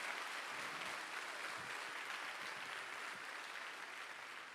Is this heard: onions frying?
no